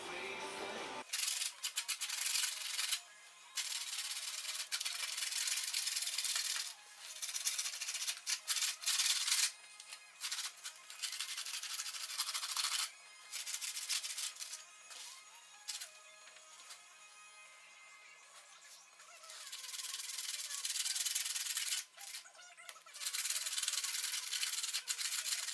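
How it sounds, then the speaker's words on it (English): A concrete table-top propane fire bowl being sanded smooth, a steady abrasive hiss running in long passes with brief pauses, close and fairly loud, no talking. "I'm going to sand everything nice and smooth"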